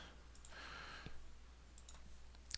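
A few soft, quiet computer mouse clicks while working in 3D modeling software, isolated taps spaced apart over a faint background hiss with no talking.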